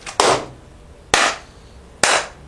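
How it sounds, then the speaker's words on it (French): Three sharp, separate hand claps ring out about a second apart, close and fairly loud in a quiet room, with no talking. "T'as vu, je m'applaudis moi-même."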